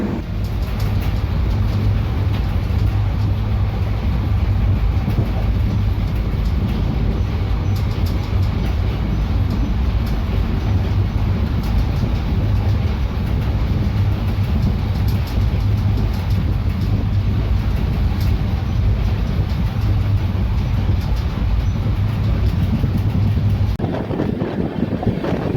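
The 21-coach Devagiri Express runs steadily, its constant loud rumble and wind roar heard from on board for over twenty seconds, ending with a brief shift in tone.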